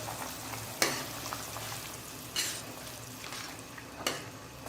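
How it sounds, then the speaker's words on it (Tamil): Tomatoes go into a hot pot for a breakfast dish, giving a steady sizzle with a few sharp stirring or scraping clicks spaced a second or more apart. "இப்போ தக்காளி சேர்த்துக்கிறேன்"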